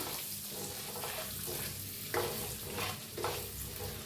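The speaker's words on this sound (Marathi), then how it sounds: "मस्त फ्राय करून घेतले ते अंडी" Eggs coated in a spiced masala fry in oil for a village-style egg curry, sending up a continuous close sizzle with a few louder bursts as they are turned.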